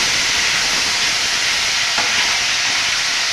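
Chicken sizzles in hot oil in a pan while being stirred for chicken rolls: a loud, steady, broadband frying hiss that stays constant throughout, with no distinct stirring strokes standing out and no voices.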